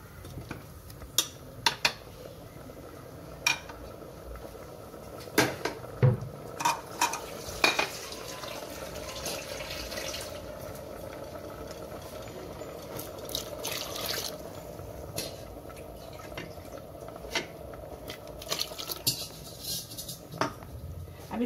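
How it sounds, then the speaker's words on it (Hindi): A pot of vegetable curry made with green moong and ridge gourd is stirred after a glass of water is added, giving soft sloshing and irregular clinks of a spoon against the pot, fairly quiet, with no talk. "एक गिलास पानी मिक्स करेंगे."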